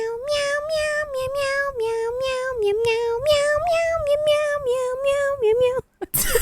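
A person's voice imitates a cat, giving about nine quick, loud, close meows in a steady sing-song run before stopping abruptly.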